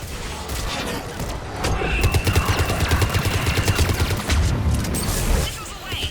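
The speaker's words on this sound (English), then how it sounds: "Missiles are hot." Missile salvo launching in Mass Effect 3, a dense rapid volley of launches and blasts rolling on for several seconds, loud and close, with a voice speaking over it.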